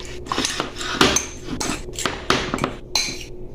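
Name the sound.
fork mixing eggs with ham in a bowl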